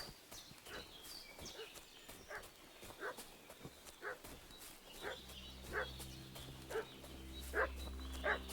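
Dog barking in the video game Kingdom Come: Deliverance II, a regular series of distinct barks roughly once per second at mid distance, with horse hooves clip-clopping and a low hum joining later.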